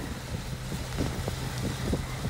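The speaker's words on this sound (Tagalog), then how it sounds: "Kasi, mahangin siya." Steady broadband rushing noise throughout, like wind buffeting outdoors during a rice harvest in the Japanese countryside, with faint low thumps underneath.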